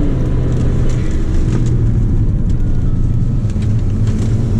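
Steady, loud drone of a Hyundai Santa Fe DM with automatic four-wheel drive, accelerating smoothly through a corner on the Inje Speedium circuit, heard from inside the cabin with continuous low engine and road rumble.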